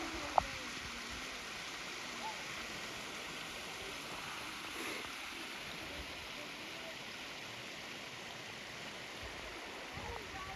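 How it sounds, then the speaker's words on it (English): Steady broadband rush of river water flowing, constant and unbroken throughout, with a faint click near the start. "There's some good water coming down."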